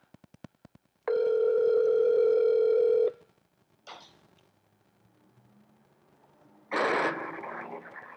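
A steady telephone tone sounds for about two seconds after a dropped call, then stops; later a brief click and a louder burst of noise follow, with faint background sounds between.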